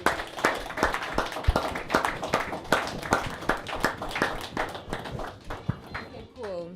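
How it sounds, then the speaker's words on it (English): A small audience claps in a quick, uneven run of sharp hand claps that fades toward the end, heard fairly close, with no speech over it. "Can we get a clap for the mothers?"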